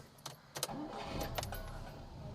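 A 1976 Peugeot 204 barn find cranks with a few short bursts, then its engine catches and runs at a steady, fairly quiet idle.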